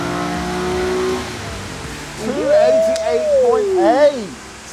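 A Nissan 350Z engine idles, then revs hard and climbs steadily on a dyno run before the throttle drops off, loud and close, with voices calling out over it.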